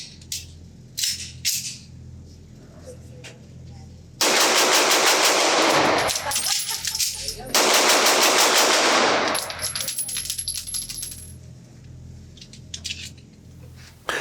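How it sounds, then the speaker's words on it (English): Strings of rapid pistol shots from a Masterpiece Arms MPA DS9 Hybrid at a range, two long loud bursts of fast close-up fire separated by a short gap, with scattered single shots and handling sounds around them. "I'm pretty sure I'm going to be able to shoot this gun relatively fast because this trigger is so nice"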